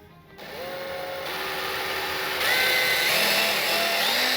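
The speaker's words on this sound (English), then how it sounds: "I'm going to go ahead and drill first hole." A power drill whirs steadily while drilling a hole for a curtain rod mount, its pitch climbing as it bites into material, loud and close with no talking.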